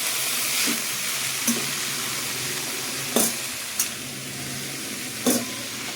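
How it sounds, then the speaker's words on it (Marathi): Kurdu greens frying with onions in a pan, a steady soft sizzle under occasional sharp scrapes and clinks of a spoon stirring, with no talk. "भाजी कांद्यामध्ये नीट मिक्स करून घ्यावी"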